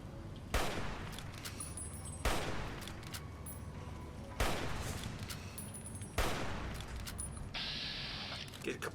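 In a Fallout New Vegas fight against a stinger creature, four loud, heavy gunshot bursts come at intervals of about two seconds, each with a long echoing tail of rumbling game noise.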